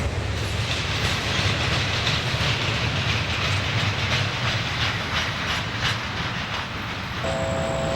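A Norfolk Southern intermodal freight train hauling trailers and containers rolls steadily past, its continuous rumble and rhythmic wheel clatter holding loud and even for the whole stretch, with a brief high tone near the end.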